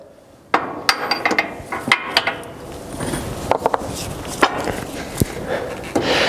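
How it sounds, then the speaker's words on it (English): Poly bushing being hammered into a John Deere drill closing wheel arm housing with a bushing installation tool: a series of sharp, close metallic strikes at an uneven pace, with clanks and handling noise between blows. "You will hammer the poly bushing in 1/4 inch in past the outside of the housing"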